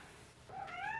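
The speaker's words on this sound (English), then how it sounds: "She is one of my cats and is very interested in what I'm doing up here without her." A house cat gives a single short, quiet meow rising out of a soft indoor background, close by and alone.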